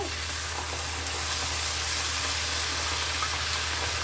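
Ginger sizzles in a frying pan while ghugni, a spiced white pea curry, is being made. The frying hiss is steady, close and unbroken, with no voices over it.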